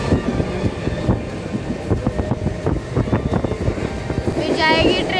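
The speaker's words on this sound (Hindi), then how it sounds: "ट्रेन में फिर से बैठ गए हैं" Steady rumble and rattle inside a moving passenger train heading to Sandhurst Road, Mumbai, with people talking throughout and a brief high squeal near the end.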